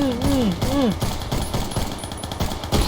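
Rapid bursts of gunfire from a gun in the Minecraft video game rattle out over the first second or so, with an excited voice talking over the shooting.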